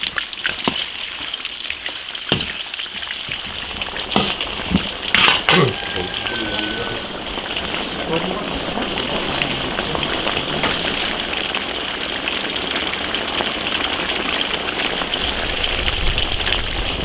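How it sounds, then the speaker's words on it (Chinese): Potato slices fry in a wok of hot oil, a dense continuous sizzle and crackle with a few sharp clinks from the pan, close and steady. "土豆片下锅炸"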